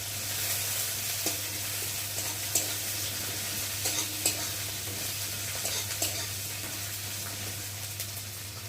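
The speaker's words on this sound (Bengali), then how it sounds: "পেঁয়াজটা ভালো করে ভেজে নেব।" Onions and green chillies fry steadily in hot oil, a dense continuous sizzle with occasional scraping stirs, close and moderately loud with no talk.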